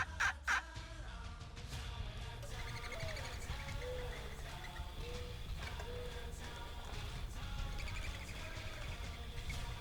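Wild turkey tom gobbling in Colorado woods, several short rattling gobbles at moderate distance over a steady low background, with faint bird chirps and no talking.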